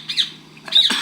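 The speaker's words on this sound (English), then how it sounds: "What the hell's up with that bird?" A bird in the video game République squawks twice, a short harsh call near the start and a louder, longer one toward the end, with a low steady game hum underneath.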